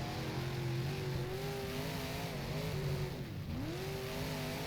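An IMCA modified race car engine in the rFactor sim at Volusia drones and revs, pitch rising and falling through corners and acceleration under a steady background wash, with no speech.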